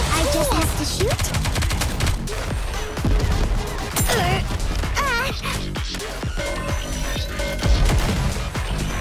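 Rapid gunfire in NIKKE: The Goddess of Victory, dense bursts of automatic shots and scattered single cracks that continue through the clip under game music and effects.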